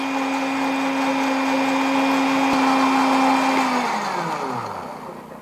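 An electric blender grinds garlic until fine, a loud, steady, high whir that runs for several seconds, then drops in pitch and winds down as the motor is switched off.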